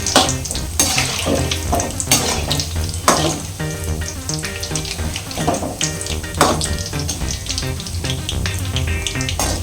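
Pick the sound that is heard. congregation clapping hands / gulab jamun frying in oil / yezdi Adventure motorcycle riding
gulab jamun frying in oil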